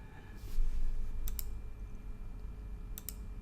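Computer mouse clicks while working in Photoshop: two quick pairs of crisp, close clicks about a second and a half apart over faint room hum.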